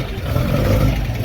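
A low-production prototype British sports car from the sixties pulls away, a brief rough engine rumble mixed with wind and road noise heard at moderate distance.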